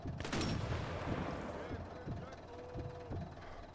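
A single sniper rifle shot from Sniper Elite 4 cracks loudly near the start and is followed by a rolling echo and tail. A few smaller impacts follow it.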